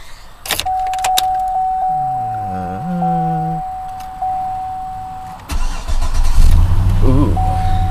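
A GMC or Chevy pickup truck unused for over a week turns over with a short whining crank, then catches and settles into a low rumbling idle, preceded by clicks, chimes and a warning tone inside the cab.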